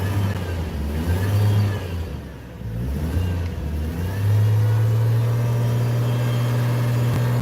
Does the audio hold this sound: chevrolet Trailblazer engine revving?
yes